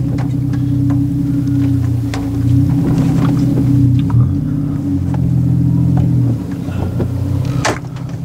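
A Chevy Trailblazer's engine runs at a steady low drone while the SUV drives through rainwater, with occasional clicks and splashes over the rumble and no talking.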